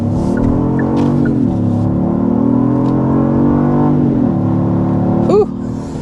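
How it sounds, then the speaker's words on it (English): A 2025 Genesis GV80 accelerates in sport mode with a synthetic V8 engine sound piped in: a steady, loud, droning tone rising through gears with short dips at shifts, heard from inside the cabin. "you do kind of activate a fake engine sound when you go into the sport mode, so it makes it sound a lot like a V8"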